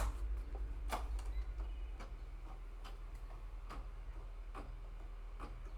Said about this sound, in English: It's like a scarier sewing machine.